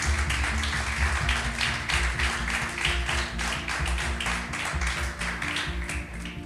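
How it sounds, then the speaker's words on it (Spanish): Church congregation applauding strongly together, a dense sustained wash of clapping with steady low hum from the sound system beneath, lasting throughout. "Bendecile con un fuerte aplauso si le estás creyendo."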